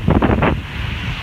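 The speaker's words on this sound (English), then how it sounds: "I'm going to have to shout here because of the wind here." Loud wind buffets the microphone on a street along Euston Road, Norfolk, a continuous close rumbling roar with gusty pulses in the first half and no speech.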